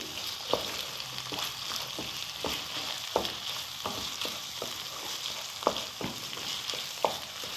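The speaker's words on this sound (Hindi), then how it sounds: "थोड़ा सा हम आँच जो है इसकी तेज़ कर देंगे ताकि ये और अच्छी तरह से भून जाए।" Minced meat keema frying over high heat with whole spices, a soft continuous sizzle with regular spatula scrapes and taps against the pan every half second or so, close but fairly quiet.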